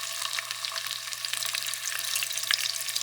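Hot sausage grease sizzles in a pot over medium-high heat, a steady close frying hiss with faint crackles throughout.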